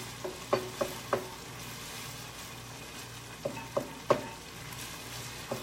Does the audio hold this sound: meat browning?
yes